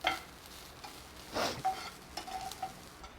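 Grated coconut fries in a pan with curry leaves, a soft sizzle broken by a few scraping stirs of a spoon against the metal, fairly quiet and close, with no talking.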